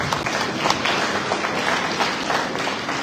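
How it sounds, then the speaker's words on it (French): Audience at a parliamentary capacity-building seminar in Senegal claps steadily, a dense, even burst of applause filling the room for a few seconds. "Vos applaudissements, s'il vous plaît."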